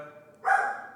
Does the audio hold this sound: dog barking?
yes